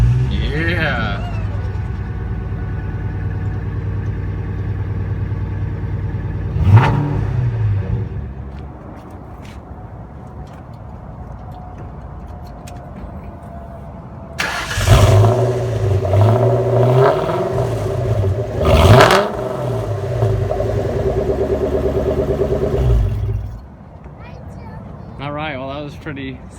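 A Ford Mustang Mach 1 engine runs at a gas station after a fuel pump change. It holds a steady, rumbling idle with sharp revs near the start and two louder bursts later, then settles before cutting off near the end.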